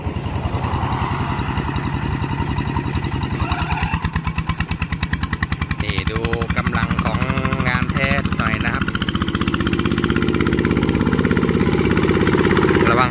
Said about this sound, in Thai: เสียงท่อนิ่มมาก ขับสองนะครับ